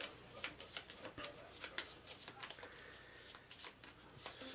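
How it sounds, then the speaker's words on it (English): Loot cards being drawn and shuffled for the Shadows of Brimstone board game, a close, quiet run of quick papery flicks and snaps at an uneven rhythm. "So we need to draw the loot cards for"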